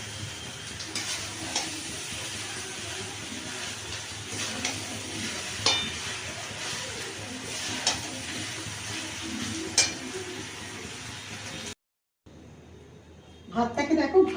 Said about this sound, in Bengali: ভাতটাকে দেখো ভালো করে ভাজা হয়ে গেছে